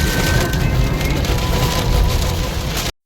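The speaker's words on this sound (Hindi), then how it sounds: "भाई साहब भयंकर बारिश हो रहा है" Heavy monsoon rain pours steadily during a storm with strong wind, a dense continuous roar close by that drops out briefly near the end.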